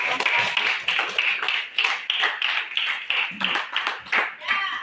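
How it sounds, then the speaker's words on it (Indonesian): A school audience claps in a rhythmic, somewhat sparse burst of applause, individual claps distinct and close, lasting the whole moment with voices mixed in. "terima kasih banyak ya, tepuk tangan lagi untuk"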